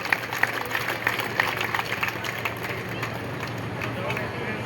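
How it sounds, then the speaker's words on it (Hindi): Steady applause from a large crowd at a public event with Rajasthan Chief Minister Bhajan Lal Sharma, dense and continuous clapping with a general hubbub running underneath throughout. "जोरदार तालियों के साथ हम गवाह बने"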